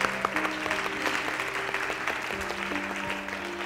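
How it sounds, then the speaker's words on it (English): Audience applause at a Christmas Eve service, a broad steady wash of clapping with faint tones and a murmur running beneath it. "We can clap for Step Up Ventura."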